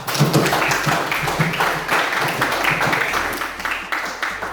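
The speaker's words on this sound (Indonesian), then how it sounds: "Kita beri tepuk tangan dulu untuk semua kelompok." A primary-school class clapping for all the student groups together, a dense, continuous round of applause from many children in a classroom, fairly loud and unbroken.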